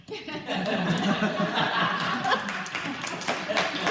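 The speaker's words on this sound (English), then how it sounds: "What an enthusiastic clap, Blanca" Audience clapping at a Purim gathering, scattered hands applauding under ongoing chatter and chuckling from the crowd, moderately distant and mixed with talk.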